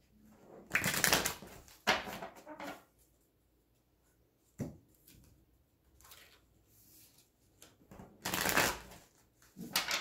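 Tarot cards being shuffled in several quick riffling bursts separated by short pauses, close and fairly soft.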